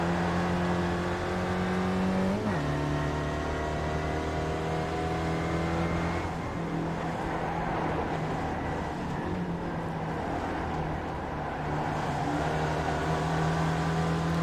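Sim racing game cars lapping Charlotte oval in a pack, steady loud engine drone with a sharp pitch drop and rise near the start, continuous without speech.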